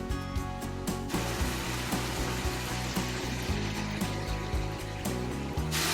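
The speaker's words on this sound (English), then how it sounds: "Remove the cover, increase the heat and let it simmer for a few minutes," Kashmiri dum aloo simmers uncovered over high heat, bubbling and sizzling loudly in a steady, dense hiss with small pops, close up and uninterrupted.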